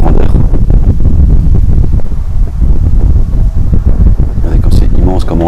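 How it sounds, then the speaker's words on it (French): Strong gusts of wind from a draught inside a huge abandoned station hangar buffet the microphone with a heavy low rumble, loud and continuous, with faint voices underneath. "Désolé pour le vent, il y a un courant d'air."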